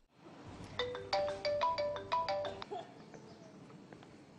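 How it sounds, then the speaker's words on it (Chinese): A telephone rings while a call is being placed: a bright electronic ringtone in a rapid run of repeated beeping pulses, clear and close, then dying away to quiet room noise. "赶紧给那个叫什么刘丽娜打打电话，证实一下。"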